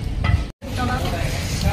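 Hot oil heats in a pan for cooking, giving a close, dense hissing sizzle with a faint scrape, broken by a brief gap.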